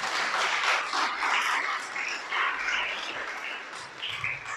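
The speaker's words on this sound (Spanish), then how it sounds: "Un aplauso al Creador." Church congregation applauding during a sermon: uneven clapping from a crowd, fairly close, swelling and fading in waves over a few seconds, with some scattered voices mixed in.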